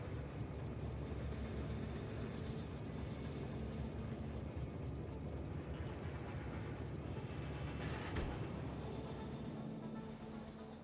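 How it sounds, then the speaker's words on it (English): Copper delivery train arriving in a modded Factorio game: a faint, steady mechanical rumble that runs throughout, with one brief brighter burst near the end, and no talk. "we should see a copper train coming soon. There it is."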